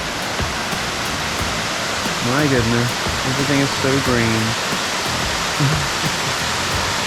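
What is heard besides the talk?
waterfall in jungle at Palenque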